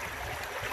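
Water from a mountain waterfall stream flowing down past green trees, a steady broadband rush and gurgle heard close and continuous with no voices.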